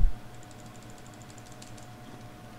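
Faint, quick clicks from a computer keyboard and mouse come from a player at a PC strategy game. The clicks are light and close, and fall irregularly over low background hum.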